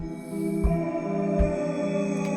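A short looped sample-based beat from an MPC One plays, soft kicks thumping under sustained tonal layers, with a spacious, washed reverb tail smoothing everything out.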